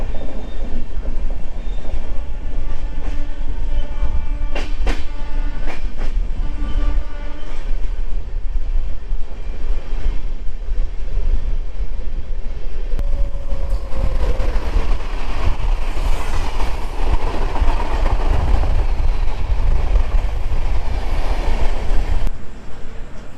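The Coalfield Express between Howrah and Dhanbad, in the Asansol division past Durgapur, makes a loud, continuous rolling rumble, with wheel clatter and high squeals rising and fading throughout.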